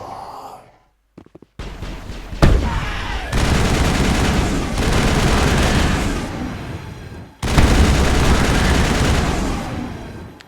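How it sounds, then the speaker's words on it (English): High explosive rounds burst in the Mass Effect video game, loud sustained crackling blasts and booming gunfire in several long bursts, after a brief breathy vocal sound and a moment of silence. "high explosive ammo, what Rex is using, explodes, as you can see"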